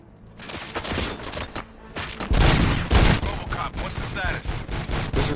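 Gunfire in the video game RoboCop: Rogue City, rapid shots rattling in clusters over several seconds, loud and close with sharp cracks and heavier bursts, amid game ambience and some voices.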